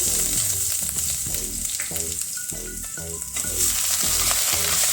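Ginger garlic paste and cumin roasting in hot oil for a mixed vegetable curry, a loud continuous sizzle with rhythmic stirring scrapes, close and without talk.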